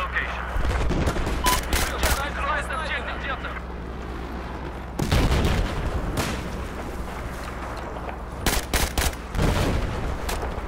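Burst gunfire in a Battlefield 4 multiplayer match: loud, close, rapid volleys of shots in clustered bursts, with a roaring battlefield din between them.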